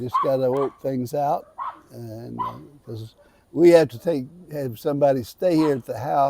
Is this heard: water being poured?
no